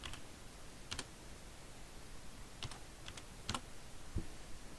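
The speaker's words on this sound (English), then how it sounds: "I'll type the formulas in, type the cell references in" Typing spreadsheet formulas on a computer keyboard, sparse, irregular key clicks over a soft background hiss, close and quiet with no talking.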